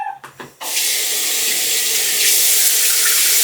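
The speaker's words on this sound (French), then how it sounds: "Bon, on va passer un petit coup d'eau quand même" Tap water runs hard over a Gillette razor being rinsed, gushing loud and steady right after a brief sputtering start.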